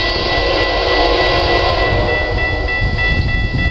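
Two BNSF freight trains meeting, a loud, continuous rumble of rolling railcars and locomotives with faint steady tonal whines running throughout.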